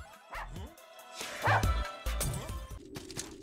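Dogs bark and yip in the side-scrolling video game Russian Subway Dogs, several sharp barks and a whimpery yelp over game music and effects, fairly loud and close.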